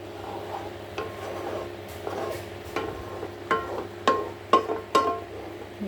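A spoon scrapes and rubs through a sugar and ghee mixture for kalakand in a pan, slow irregular strokes growing louder and sharper toward the end, close by with no voices.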